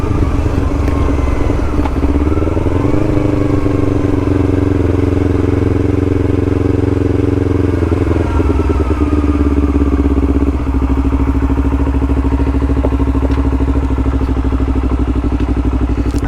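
A Kawasaki Z900 motorcycle engine runs steadily and loudly up close, a continuous throaty drone that shifts pitch slightly around a few blips, with no talking.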